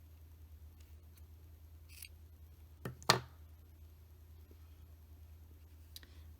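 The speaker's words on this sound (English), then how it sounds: "I'm gonna go ahead and cut my yarn here." Scissors snip through crochet yarn at the finish of a baby mitten, a single sharp near cut with a faint click just before, otherwise a quiet room.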